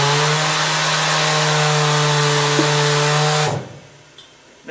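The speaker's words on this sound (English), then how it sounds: "push this pedal right here to rotate the first part of the bead off" A Coats 5050a tire changer rotating to push a tubeless motorcycle tire bead off the rim: a loud, steady electric-motor drone with a humming whine that cuts off abruptly, leaving near silence.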